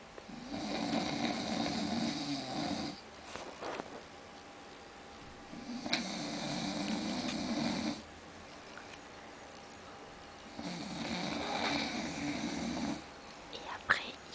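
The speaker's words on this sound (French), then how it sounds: "Et après, il va encore aussi dire qu'il ronfle pas." A sleeping man snores in three long, rasping breaths spaced a few seconds apart, close and moderately loud, with quiet pauses between them.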